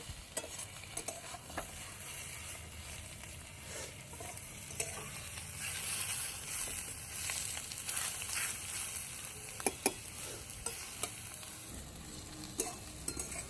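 Taro (ghetkochu) stalks fry quietly in a pan. A soft, steady sizzle runs throughout, broken by the light clicks and scrapes of stirring.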